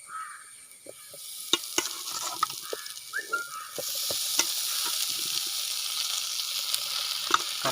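Boiled tapioca is tipped into a hot pan and stir-fried, building from scattered knocks and scrapes into a steady close sizzle with a spoon clicking against the pan now and then.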